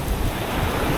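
Big ocean waves at sea surge and rush with heavy wind buffeting the microphone, a loud continuous roar of water and gusts.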